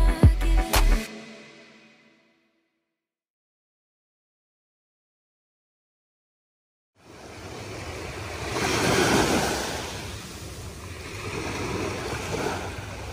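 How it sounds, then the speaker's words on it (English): Ocean surf washes onto the beach at Redington Shores with a continuous broadband rush and some wind. Before that comes a brief unrelated sound and several seconds of near silence. "you might want to listen to the sounds of the waves and just the normal beach day sounds of the birds, the people, all of it"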